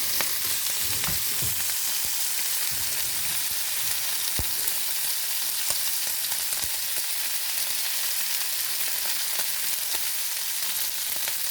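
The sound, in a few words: steak frying in olive oil in a pan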